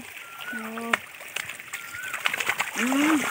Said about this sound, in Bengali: মাছগুলো খুব লাফালাফি করছে।